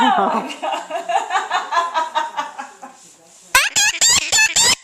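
A parrot imitates a chicken with a long series of rhythmic, chuckling clucks, then a burst of loud, sharp squawky calls, all close and clear.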